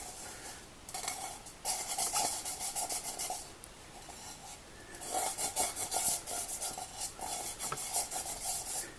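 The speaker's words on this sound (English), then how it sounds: "It just rubs right off with your fingers." Fingers rub baked-on residue off a pot in repeated scraping, rasping strokes, heard in several bursts with short pauses between, close and fairly quiet.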